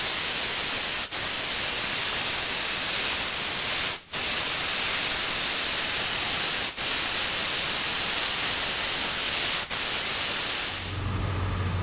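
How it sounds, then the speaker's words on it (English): Spray adhesive hisses in a long, loud, continuous jet onto suede and a car headliner for Honda Civic visors, broken by a few brief pauses before cutting off near the end. "We sprayed the adhesive on the suede and the headliner"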